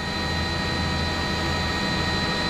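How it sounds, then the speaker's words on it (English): Police helicopter passing over a Houston police chase scene, a steady loud broadband engine and rotor roar with a constant whine, continuous throughout without talk. "is that the police chopper that just flew by that's still looking around for him as well?"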